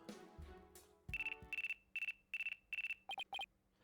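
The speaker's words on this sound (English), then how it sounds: "Oh, pardon me. Looks like I have a phone call." A telephone rings in the courtroom game Apollo Justice: Ace Attorney, a run of short electronic trilling bursts repeating in a steady rhythm, clear and alone after a brief low thud.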